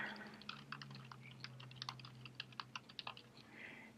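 Typing on a computer keyboard, a rapid irregular patter of light key clicks over a faint low hum, close and quiet.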